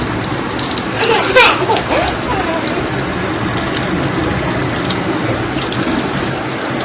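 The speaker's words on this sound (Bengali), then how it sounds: "ভালো করে দু হাত জলে, ভালো করে জলে দু হাত" Tap water runs steadily while both hands are rubbed and rinsed under the stream, a close, continuous splashing gush with a brief louder spatter early on.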